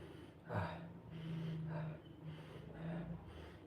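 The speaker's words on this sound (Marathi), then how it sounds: "असं श्वास घ्यायचा" Soft nasal inhales through a cloth pouch holding a spoonful of vekhand (sweet flag) powder, taken as a cold remedy: three gentle, close breaths about a second apart over a faint steady hum.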